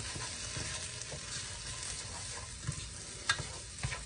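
Smoked paprika, onion powder and other spices toasting in a hot pan with a steady low sizzle, broken by a few soft stirring scrapes and clicks, with no voices.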